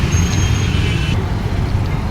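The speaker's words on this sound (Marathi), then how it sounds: "आपल्या इथं राजवाड्यावर सतत ट्रॅफिक चालूच असतो" Constant road traffic at Rajwada, a busy city square, a loud continuous rumble of passing vehicles with a brief high whine fading out midway, no voices.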